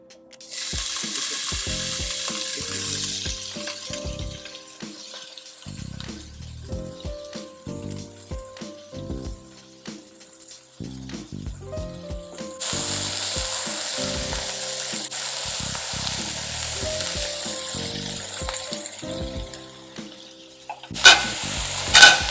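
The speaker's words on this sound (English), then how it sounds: "Now we need to add some kale leaves." Kale leaves fry in a pan and are stirred with a utensil, giving a steady sizzling hiss with repeated scraping, clicking strokes. The sizzle swells louder midway and near the end, with no voices.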